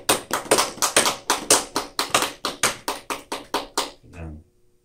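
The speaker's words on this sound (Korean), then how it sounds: "박수 치고." A small church congregation at a Sunday worship service claps in a steady, even rhythm, about fourteen loud close claps in a row, then stops as a voice briefly speaks.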